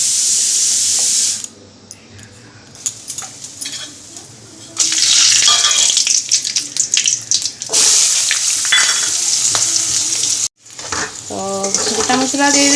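Onions and whole spices fry in a kadai with a loud hissing sizzle in bursts, cut by quieter gaps and clattering stirs; a stretch of running water and scraping is mixed in, with no speech.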